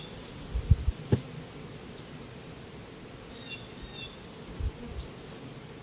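Faint, steady hum of honey bees around a hive during brood nest feeding, with a few soft knocks near the start and one later, and no voices.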